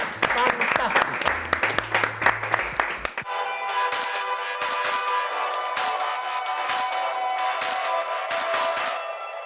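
Applause for a guest on a Mexico City LGBTTTI community talk show: about three seconds of quick, close clapping, then it gives way to music with a steady beat that carries on to the end.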